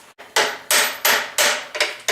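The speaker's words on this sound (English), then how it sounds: "I've switched to a lighter hammer again, like 1 pound." A 1-pound hammer strikes hot metal during forging, five sharp ringing blows in a steady rhythm, each decaying briefly before the next, close and loud with no talking.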